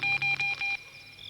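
A rapid series of four touch-tone beeps as a phone number is dialed, each short and bright, followed by faint background hiss.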